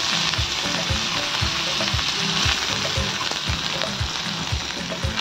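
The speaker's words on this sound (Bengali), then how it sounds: "পেঁয়াজটাকে একটু ভেজে নেব।" Sliced onion frying in hot oil in a wok, a steady dense sizzle with regular soft stirring knocks throughout, close and even.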